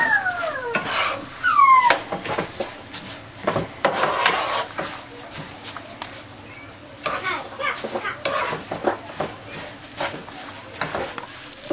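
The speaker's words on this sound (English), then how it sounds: "I'm going to mix this sofrito in with the rice, because what I want to do is I want to fry up this rice a little bit" Rice fried with sofrito in a pot for arroz con gandules, with a spoon scraping and clattering against the pot under a low sizzle. The stirring strokes come in steady, close bursts, and a cat meows briefly near the start.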